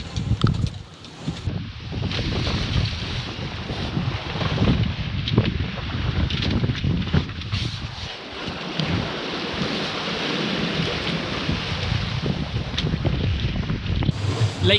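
A Contessa 26 sailboat is under way on the open Atlantic under its genoa, with continuous wind rushing over the microphone and water sloshing and surging against the hull.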